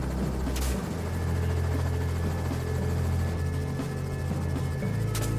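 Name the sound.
helicopter flying overhead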